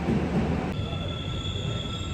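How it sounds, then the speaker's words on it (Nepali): A metro train rolls through an underground station platform, a loud, steady rumble of wheels and motors with a thin whine setting in partway through, heard close with no talking. "ट्रेन पनि आउन आँटेको"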